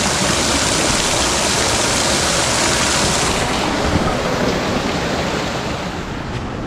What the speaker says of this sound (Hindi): पीछे ये नदी दिख रही है, ये जमुना नदी है।